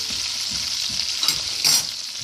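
Ground spices, pounded in a mortar, sizzle steadily in melted butter in a pan, a continuous hissing fry with a couple of brief louder spits, no voices.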